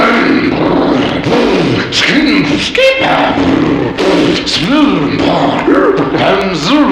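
A voice imitates a sputtering go-kart engine warming up, with rough, rumbling bursts and pitch swoops continuing steadily throughout, close and loud.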